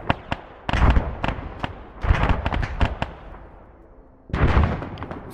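Bursts of gunfire from an Arma 3 firefight, sharp cracks in irregular clusters of several shots separated by brief lulls, fairly loud and close with echoing tails.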